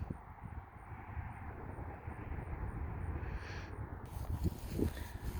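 Airliner landing at Dulles airport, heard as a steady low engine roar and rumble as it touches down, with some gusty outdoor noise, moderately loud and at a distance.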